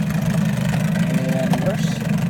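A 1982 Evinrude 15 hp outboard motor idles low and steady with a constant low throb, close and loud throughout.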